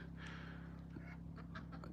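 Ducks quacking on an off-grid homestead, several short nasal calls at a moderate distance over a steady low hum, with no talk.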